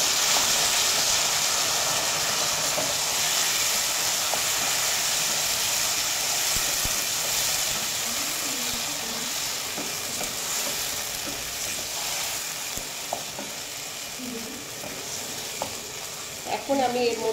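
Taro leaves (kochu saag) tipped into a hot pan for a hilsa fish dish, giving a steady loud sizzle and hiss that runs throughout and eases slightly, with a few stirring scrapes and clinks near the end.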